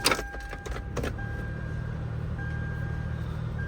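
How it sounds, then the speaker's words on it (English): Toyota Highlander Hybrid idles with a steady low hum inside the cabin, with a few brief electric motor whirs from the power windows near the start before settling into a constant drone. "Okay, now the car is on."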